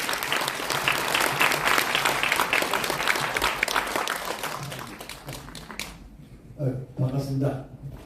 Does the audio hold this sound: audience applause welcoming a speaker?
yes